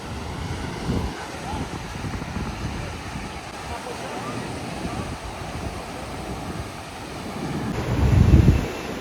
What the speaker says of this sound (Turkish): Dalgalar gerçekten bayağı yüksek yani.